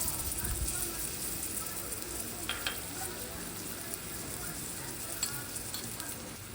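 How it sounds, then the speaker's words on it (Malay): Pounded garlic, galangal and spices sautéing in hot oil in a home kitchen, a steady close sizzle and crackle with a few sharper spits and stirring clatters. "kita tunggu minyak panas untuk tumis bahan-bahan yang kita tumbuk tadi"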